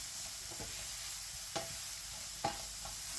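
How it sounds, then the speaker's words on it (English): Pimento powder is stirred into tender veggies in a pot over a soft, constant sizzle, with a few quick scraping strokes of a spoon. "And we're just going to stir that in."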